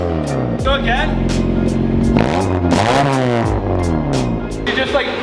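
A Honda Civic EK engine is revved again, loud and close, its harsh exhaust note rising and dropping through a few throttle blips, with voices talking over the running engine.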